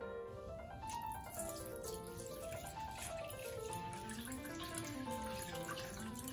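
A steady stream of 8% salt brine is poured over cleaned red barracuda for dried fish, a continuous watery gush with a rising and falling pitch as the container fills, close and even throughout with no talking.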